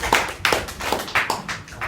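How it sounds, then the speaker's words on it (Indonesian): Short classroom applause for a student, a few quick uneven bursts of hand clapping, fairly close and brief. "tepuk tangan dulu untuk Satria"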